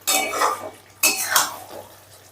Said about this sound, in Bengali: এবার সমস্তটা আবারও একটু মিশিয়ে দিচ্ছি।